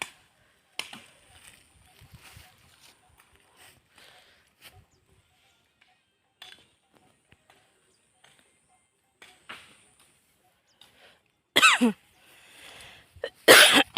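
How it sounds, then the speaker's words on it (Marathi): After a long stretch of faint rustling, someone coughs loudly, two sharp fits close to the listener near the end. "खोकला झाले"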